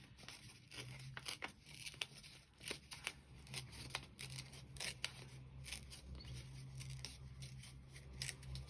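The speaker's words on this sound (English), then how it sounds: "I'm not going to fussy cut it. I'm going to tear around" Paper torn by hand around a small printed image for a journal card, giving a series of short, close, soft ripping strokes at a steady pace, quiet and alone.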